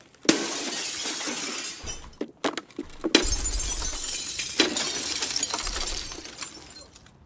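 A glass window shatters in the Escape from Tarkov video game: a sharp crash followed by a long spray of tinkling, scattering shards and several further cracks, loud and close.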